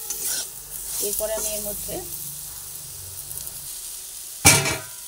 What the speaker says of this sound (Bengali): নুন দেওয়ার পরে আবার সুন্দরভাবে ভেজে নিচ্ছি।